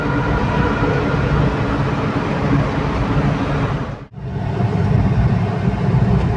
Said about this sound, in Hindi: अब मैं आपको इस टनल के अंदर आने वाली आवाज़ सुनाता हूँ, देखिए कितनी भयंकर आवाज़ आती है।